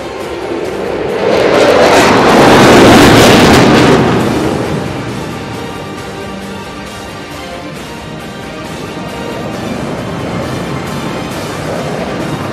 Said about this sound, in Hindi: सोलो तुर्क इस वक्त आपके सामने लूप का मुजाहिरा पेश कर रहा है